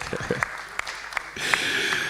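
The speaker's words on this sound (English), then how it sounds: "Let's give it out to him. A round of applause." Audience at a youth policy launch event gives a round of applause, scattered claps at first that swell into fuller clapping toward the end, with talk mixed in.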